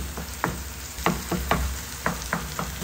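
Grilled eggplant, onion and tomato are stirred in a frying pan, giving a steady sizzle broken by about eight sharp scraping strokes of the utensil at irregular intervals.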